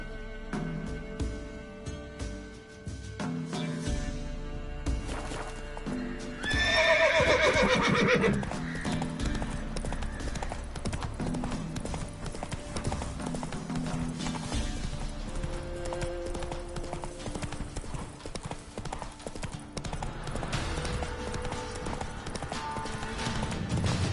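Roach the horse galloping with steady clip-clop hoofbeats in a video game, a loud whinny breaking out midway, hooves continuing at close range with almost no talk.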